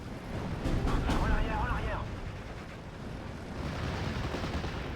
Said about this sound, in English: We're also going to get a load of our artillery to fire on those Stugs.